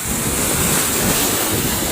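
Sea waves wash onto an eroded shoreline in a steady, continuous roar of surf, with heavy wind buffeting the microphone throughout.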